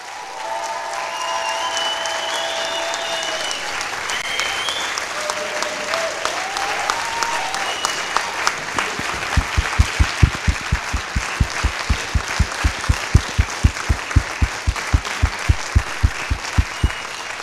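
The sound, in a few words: audience applauding the finalists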